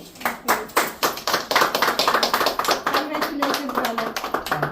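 A group of people at a fertility centre celebration clap rapidly and steadily for several seconds, a close, lively applause with voices mixed in.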